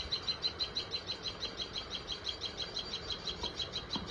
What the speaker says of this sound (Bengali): দেখো টুনটুনি পাখি সব আওয়াজ করছে।